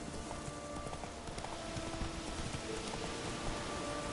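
Roach the horse's hooves clip-clop steadily in The Witcher 3, a continuous galloping rhythm under a rain-like wash of ambient noise.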